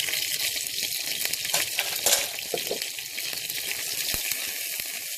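Frozen ginger and garlic frying in a pan for a chicken and peas curry: a steady close sizzle with light crackles and occasional stirring clinks, no talk.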